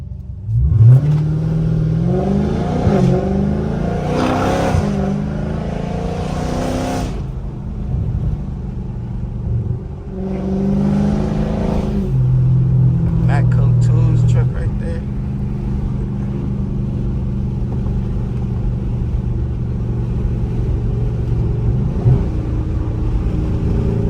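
A car's exhaust in street mode revs hard several times, roaring and burbling, then settles into a steady low rumble while a person talks over it.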